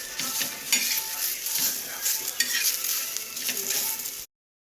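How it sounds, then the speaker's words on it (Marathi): Ginger and garlic fry in a pan of oil with onion, a steady bright sizzle broken by scraping stirs, close and moderately loud before cutting off abruptly. "थोडंसं आलं घेतलं होतं तेही मी टाकते आणि तेही परतून घेते त्याच्यामध्ये"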